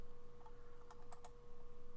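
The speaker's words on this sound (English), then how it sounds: "I'm just clicking the right mouse key and clicking it" A few quiet right mouse button clicks on a computer while editing a layer mask in a photo program. Several sharp ticks cluster near the middle over a steady low hum.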